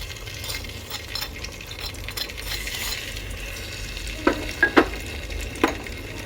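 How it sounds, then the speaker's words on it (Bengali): Aloe vera and crushed amla sizzle in hot oil for homemade hair oil, a steady frying hiss with a few sharp metal clinks of a stirring spoon toward the end. "তারপর দিয়ে দিচ্ছি অ্যালোভেরা আর হচ্ছে আমলক্ষী মানে আমলক্ষীটা আমি থেতো করে রেখেছিলাম এটা"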